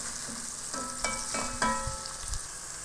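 Chopped onion fries in oil in a pan, giving a steady close sizzle with several soft stirring scrapes and knocks of a spatula.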